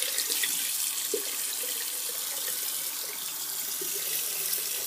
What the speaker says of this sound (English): I just grab my blade again, give it a wash